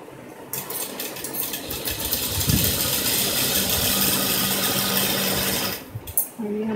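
A sewing machine stitches a straight seam on palazzo pants with a continuous close whirring hum for several seconds, then slows and stops near the end.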